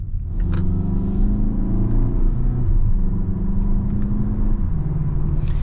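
A deep engine rumble swells as a 2022 Mazda CX-5 SUV with a 6-speed automatic accelerates, steady and loud with a low growl throughout.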